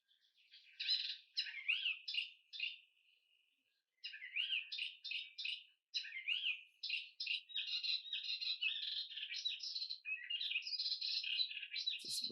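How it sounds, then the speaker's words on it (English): A fast, varied melodious warbler song of chattering phrases and liquid whistles, clear and close, running nearly continuously with one short pause. "Melodious warbler."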